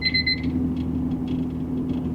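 A vehicle backup camera's steady electronic warning beep repeats at an even pace over a low engine rumble, with no one talking.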